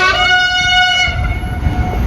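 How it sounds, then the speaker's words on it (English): A train in Poland sounding a loud multi-tone horn that sustains, then fades, as heavy rumbling from the passing railcars comes up close. "the train has gone"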